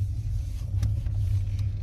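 A car being driven, a low steady engine rumble and road hum filling the cabin at moderate level, continuous with faint small clicks and no talking.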